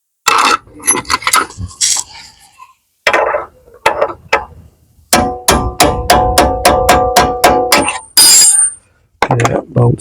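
A ratcheting wrench loosens a 15mm bolt on the front control arm of a Tesla Model X. It starts with scattered clanks and scrapes, then gives a loud, close run of rapid, evenly spaced ratchet clicks, broken by brief pauses.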